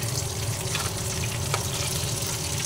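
Rice croquettes (bhat chop) frying in hot oil in a pan, giving off a steady, dense, close sizzle that holds at an even level throughout with no talk.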